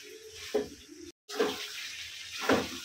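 Water is poured into a pan of chicken curry being braised, giving a splashing gush in short bursts with a brief silent gap between them.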